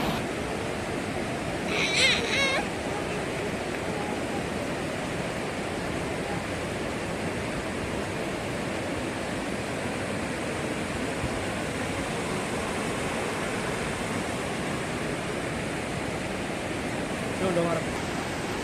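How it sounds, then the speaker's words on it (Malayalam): A waterfall roars with steady, loud broadband rushing water throughout, a constant wash of flowing sound from nearby. "വെള്ളം ഇങ്ങനെ ഒഴുകുക കണ്ടോ നല്ല രസമാണ്"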